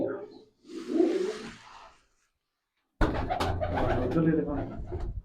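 Pigeons kept in a loft coo in a few low soft bursts at close range, then a gap of silence, then people talk over further bird sounds.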